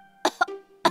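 A child with a cough gives a short burst of three coughs, close and fairly quiet, in an indoor family scene.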